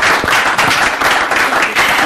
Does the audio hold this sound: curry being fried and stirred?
no